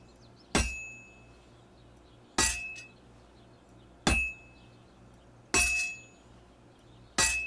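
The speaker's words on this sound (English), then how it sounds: "if it was all about hitting an anvil with a hammer, any dolt could do it" A sword is hammered on an anvil in Kingdom Come: Deliverance 2, giving five sharp metallic clangs with ringing tails at an even, unhurried pace over a quiet background.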